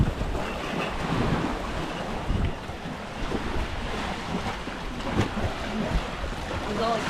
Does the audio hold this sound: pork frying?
no